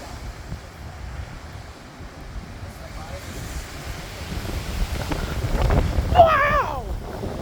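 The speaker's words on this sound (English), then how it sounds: "It's pretty windy tonight." Strong night windstorm blowing outdoors, steady roaring gusts that swell louder toward the end, with a voice exclaiming over them.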